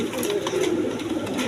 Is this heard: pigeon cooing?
yes